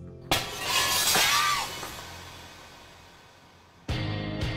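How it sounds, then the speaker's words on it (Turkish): A glass window shatters with a sudden loud crash, shards ringing and tinkling as they fall and fade, followed by a second burst of breaking glass near the end. "Hazırladığımız gibi camı kıralım bakalım."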